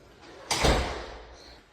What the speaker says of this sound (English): So here we have the door, we open it